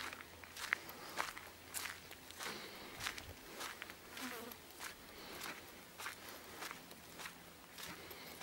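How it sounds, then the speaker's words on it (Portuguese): Footsteps crunch in a steady rhythm on a Sunday walk while small flies buzz faintly around, the buzzing thin and intermittent beneath the walking. "Depois moscas aqui zunir daqui a pouco"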